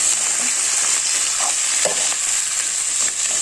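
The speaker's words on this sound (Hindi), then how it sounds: "अब इसको अच्छे से जो है इसको स्लो आंच में पकने देंगे, अच्छे से फ्राई हो जाएंगे।" Potatoes with salt sizzling on a low flame in a pan, a continuous bright hiss of frying oil with a couple of faint stirring scrapes, heard close and without talk.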